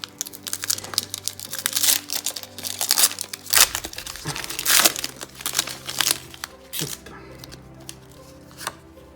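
Crinkling foil wrapper of a Pokémon Fusion Strike booster pack being torn open and handled, dense rustling and crackling bursts, close up, with brief quiet voices in the background.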